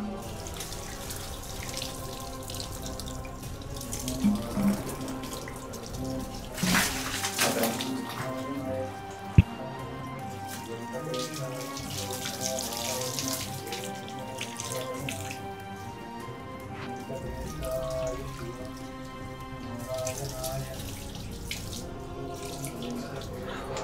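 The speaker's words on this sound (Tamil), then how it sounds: "ஒரு குடம் தண்ணியிலே 3/4 குடம் தண்ணி தான் நான் ஊற்றிருக்கேன்" Water poured from a pot over a deity idol inside an old temple sanctum, a close, continuous splashing and gurgling stream with a few louder spills and drips, and faint voices in the background.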